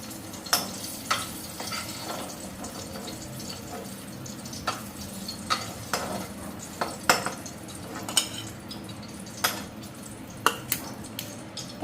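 Leafy greens fry in a pan while a utensil taps and scrapes the metal in sporadic sharp clicks over a low, continuous sizzle, close and alone without talk.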